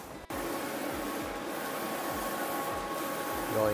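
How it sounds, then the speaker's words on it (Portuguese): A large printer runs while printing vinyl stickers, a steady mechanical whir with regular sweeping passes of the print head, close and continuous after a brief click at the start. "em primeira mão para vocês, ó, adesivo sendo impresso"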